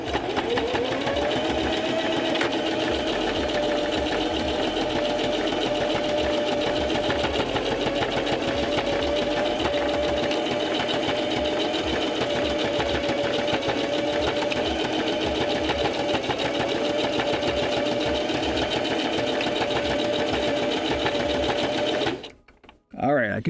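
A sewing machine runs steadily while stitching a puppet, giving a fast, continuous mechanical whir close by for over twenty seconds before stopping abruptly near the end.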